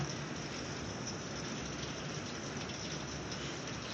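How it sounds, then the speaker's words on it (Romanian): Steady, dense rain pours without a break throughout during a violent summer storm with hail in a Romanian village, a loud continuous hiss with no speech over it. "Am zis că plouă, a zis Lucianu"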